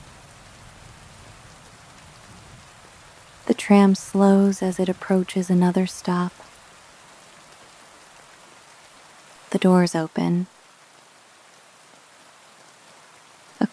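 Steady rain patters evenly throughout at moderate volume, heard from a city tram, with a person narrating over it in two short stretches.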